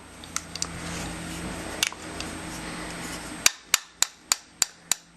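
A slave pin is tapped out of a Tanfoglio pistol frame: roughly eight sharp metallic taps, the last six coming in an even rhythm close to the mic after a quieter stretch with a few light ticks.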